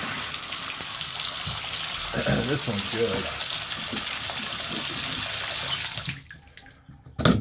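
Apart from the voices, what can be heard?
water from a Pfister three-handle shower faucet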